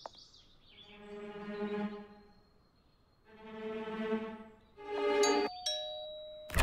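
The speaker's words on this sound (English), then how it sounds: "I'll ring the bell and distract them." An animated show's doorbell rings in two drawn-out ding-dong chimes followed by a brighter ringing tone, clear and alone.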